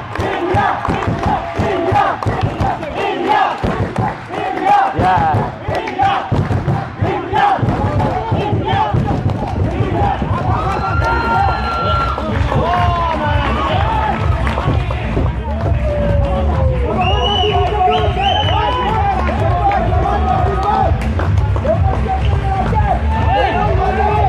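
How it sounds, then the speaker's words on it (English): A Pakistani and Indian crowd cheers at a sports match, a loud, dense wall of shouting, chanting and whistling that continues throughout, with excited voices close by. "All the support from Pakistani and Indian crowd."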